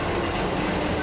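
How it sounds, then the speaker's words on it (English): A Govia Thameslink train on the Sutton to Luton service pulls out of Farringdon station with a loud, steady low rumble of engine and wheels, brief and continuous. "the 1706 Govia Thameslink service from Sutton to Luton"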